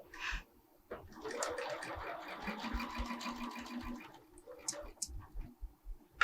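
A home sewing machine runs for a few seconds, a soft, even mechanical whir stitching a pillow's front panel with a half-inch seam, followed by a few faint clicks and fabric handling.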